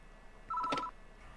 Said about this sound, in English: The phone ring is gonna keep on going